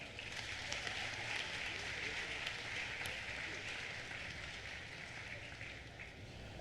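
Steady, fairly faint applause from a commencement crowd at a university graduation ceremony, a continuous patter of many hands clapping without pause and no voices over it.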